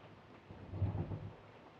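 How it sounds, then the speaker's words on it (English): Thunder rolls outside during an evening of steady rain: a single low, faint rumble swells and fades over a soft wash of rain, distant and quiet, with no voices. "it's raining out here. It's been raining all evening."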